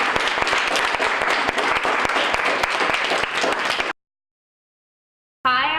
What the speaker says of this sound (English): So maybe one more time if we can all give a round of applause.